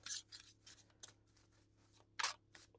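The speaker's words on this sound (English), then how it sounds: "Just have to shuffle up some of these cards." Soft, irregular papery flicks and rustles come in quick bursts, close and quiet, as tarot cards are shuffled by hand.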